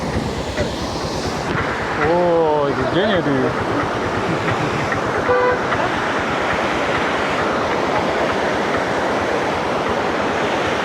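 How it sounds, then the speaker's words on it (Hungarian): Waterfall among tea plantations in Munnar, a steady loud rush of falling water filling the scene, with a person exclaiming over it partway through. "this is a waterfall here"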